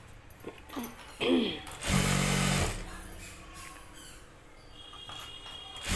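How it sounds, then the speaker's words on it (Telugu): A sewing machine stitching the corner of a blouse, with a short, loud burst of running near the middle amid quieter handling of the fabric and faint background noise. "మధ్యలో పెట్టి కుట్టాలి కార్నర్ కుట్టు కుట్టాలి"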